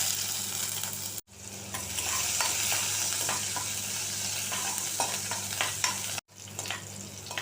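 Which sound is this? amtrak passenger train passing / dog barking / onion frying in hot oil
onion frying in hot oil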